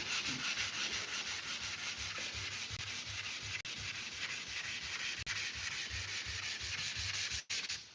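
Block sanding the back of a 1968 C10 cab produces a steady, close, continuous rasping scrape with a quick rhythmic stroke pattern. Brief breaks come near the end, and no one talks.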